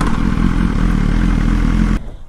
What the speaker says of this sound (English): Yay, motorcycle riding.